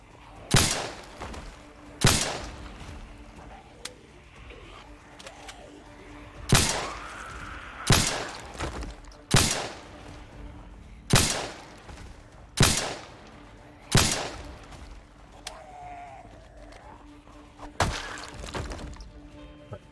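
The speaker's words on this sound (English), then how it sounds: "Shouldn't take the shots this early." Gunfire in the zombie survival game Project Zomboid: about a dozen loud, sharp single shots spaced irregularly every second or two, each with a short booming tail, over a quiet background.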